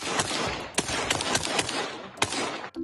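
Rapid bursts of gunfire crackle in quick succession, sharp cracks over a dense noisy background, fairly loud and sustained.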